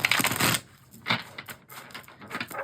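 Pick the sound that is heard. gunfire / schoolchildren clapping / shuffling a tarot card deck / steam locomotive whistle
shuffling a tarot card deck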